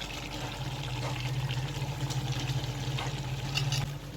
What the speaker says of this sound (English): While putting, I make sure I'm stirring it so it mixes very well.